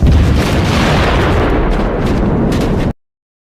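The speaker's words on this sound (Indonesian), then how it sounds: "bom itu justru meledak" A bomb explosion in the 1998 Indian film Dil Se roars and rumbles loudly for about three seconds, then cuts off abruptly into silence.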